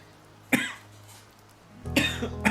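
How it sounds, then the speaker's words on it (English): A person has a coughing fit, with one harsh cough followed after a pause by a cluster of several rough, throaty coughs close to the microphone. "I'm having a cough attack."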